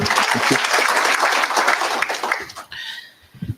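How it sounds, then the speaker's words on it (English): Applause from a conference audience greeting a government official, the 1st National Border Management Conference at the Villa Rosa Kempinski in Nairobi; dense clapping fills the room for about two and a half seconds, then fades into quieter room sound. "A round of applause to welcome him."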